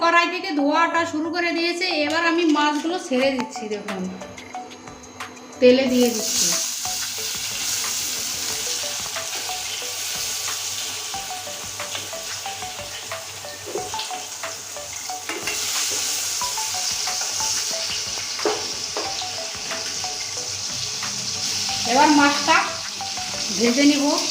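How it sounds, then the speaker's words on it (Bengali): Fish pieces sizzle steadily in a hot oiled pan as they are stirred with salt for a Bengali potato and fish curry, a continuous bright frying hiss with light scraping, and someone speaks at the start and end. "মাছটা যেহেতু নিচে না লাগবে তার জন্য লবণ দিয়ে একটু নেড়ে দিচ্ছি দেখুন"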